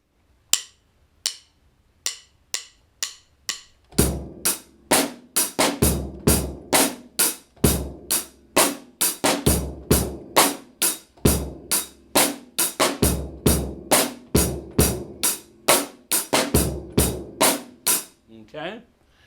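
A drum kit playing a beat slowly in a drum shop, starting with a few sparse hits then settling into a steady groove of kick, snare and cymbal strikes, close and loud throughout.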